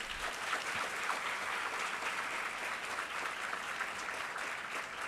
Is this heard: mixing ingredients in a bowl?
no